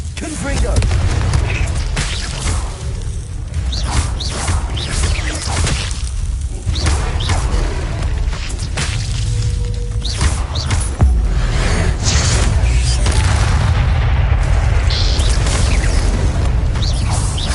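A Confringo fire spell detonating in Hogwarts Legacy, a dense roaring blast with booming thuds and whooshes that stays loud and continuous throughout.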